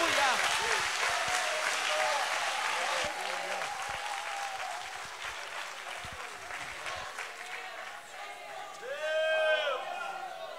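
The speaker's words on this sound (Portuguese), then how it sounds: "E que as palmas louvem ao nome do Senhor." Congregation clapping in praise during a church service, a loud sustained burst of applause mixed with cheering voices, easing midway and then giving way to voices rising in song near the end.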